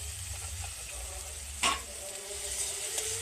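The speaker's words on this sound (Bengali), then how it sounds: "পেঁয়াজ টমেটো একটুখানি ভাজা ভাজা হয়ে গেছে, এইবার অঙ্কুরিত হয়ে যাওয়া মটরশুঁটি দিয়ে দেবো।" Onion, tomato and sprouted peas fry in a pan with a steady, soft sizzle, a brief clatter as they are stirred, then the sizzle continues at an even level.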